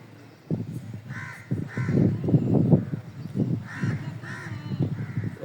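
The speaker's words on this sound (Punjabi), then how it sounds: "ਕਾਵਾਂ ਦੀ ਆਵਾਜ਼ਾਂ ਆ ਰਹੀਆਂ ਨੇ, ਕਾਂ ਵੀ ਕਾਂ ਕਰ ਰਹੇ ਨੇ" Crows cawing repeatedly in a wide open outdoor space at a rural shrine in Punjab, harsh calls overlapping at moderate distance with a steady background murmur.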